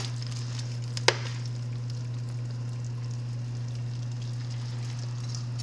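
A beef pot roast goes back into a hot pot with its juice, giving a soft, steady sizzle under a constant low hum, with one sharp clack near the start.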